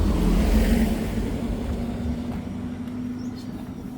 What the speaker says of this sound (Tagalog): mabilis ng sasakyan